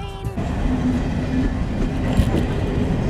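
A train runs along the rails with a steady rumble and occasional clicks and squeaks, close and continuous, no talking.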